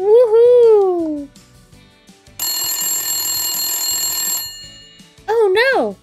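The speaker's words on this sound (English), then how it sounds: "Oh no, the emergency phone." An emergency telephone ringing in a Peppa Pig cartoon, a loud electronic ringing burst lasting about two seconds, set between cartoon voices speaking before and after it.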